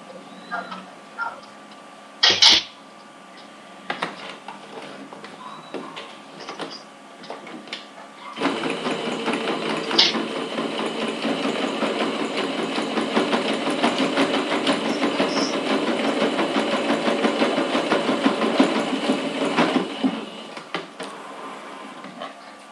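Sewing machine finishing the last small seam on a square fabric toilet-paper holder, a steady close mechanical whir running continuously from about eight seconds to twenty, with a few brief clicks and taps before it starts.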